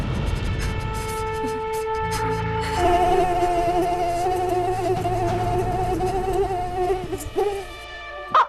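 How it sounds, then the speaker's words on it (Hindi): Several mosquitoes buzz close by indoors at night, their whining drones overlapping as a steady chorus. The whine grows stronger partway through, and a few brief knocks sound near the end. "ओह गॉड, इन मच्छरों का ग्रुप सॉन्ग सुन सुन के ना हमारे कान ही ना खराब हो जाए।"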